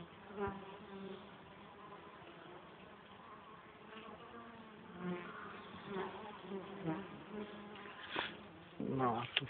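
Honeybees buzz around their hive on a July day, a close, steady, droning hum of many insects with individual bees swelling louder as they fly past.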